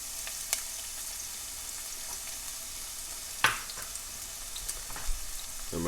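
Chopped onion sizzles in extra virgin olive oil in a saucepan over medium-low heat, a steady soft crackle with a few sharper clinks and pops, including one louder clatter partway through.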